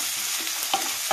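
Chopped onion and green chilli sizzle in a hot pan while a utensil stirs them, with a couple of sharp scraping clicks over the steady frying hiss, close and fairly loud, with no talk.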